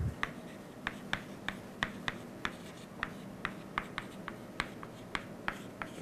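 Chalk or marker writing on a board during a lecture: a dozen or so short, regular taps and scratches in a steady rhythm, close but soft, over a quiet room hum with no talk.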